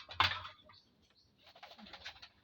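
A short, soft barred rail (tikling) call in quiet open air, a single sharp note followed by fainter chattering calls.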